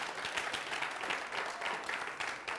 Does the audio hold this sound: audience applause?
yes